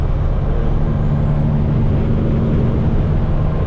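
Steady, loud traffic roar on gridlocked Interstate 95, a dense continuous wash of engine and road noise with a faint rising whine near the start.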